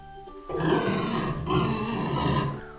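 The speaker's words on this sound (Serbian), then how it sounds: "Ovo je svinja." A pig grunts in a continuous, rough, low rumble broken into two long snorting bursts, close and fairly loud.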